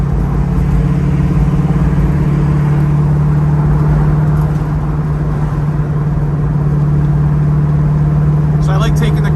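A 1970 Dodge Challenger cruising on the road with the windows down, its engine giving a steady low drone with a constant hum and road rumble throughout, fairly loud and close.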